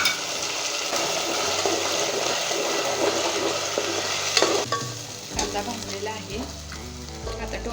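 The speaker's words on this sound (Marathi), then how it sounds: "कांद्याचा कच्चापणा जाईपर्यंत ही पेस्ट भाजून घ्यायची आहे" Onion paste for chhole frying and being stirred in a pan, a continuous bright sizzle with scraping strokes, turning softer and more bubbly toward the end.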